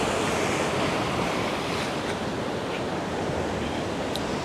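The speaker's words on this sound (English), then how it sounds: "the waves in the nighttime splash from all the way up here" Ocean surf crashes on the shore at night below a seaside hut in Portland, Jamaica, a loud, continuous, close roar of breaking waves mixed with wind noise against the microphone.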